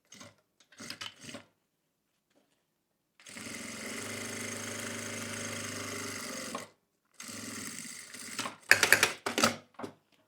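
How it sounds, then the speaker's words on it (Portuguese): A sewing machine stitches fabric lining close to a zipper on a small zippered pouch. A steady whirring run of a few seconds is followed by a second shorter burst, with handling noises and brief pauses around them. "agora forro com forro e costuro o mais próximo do zíper possível"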